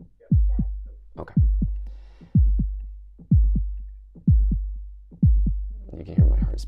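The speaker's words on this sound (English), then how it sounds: "So it's like a heartbeat sound coming from Ableton, coming from my body." A synthesized heartbeat plays from Ableton, driven by a live heart rate, with about seven loud, deep thumps, each decaying slowly, at a steady pace of roughly one per second and a faint voice at the end.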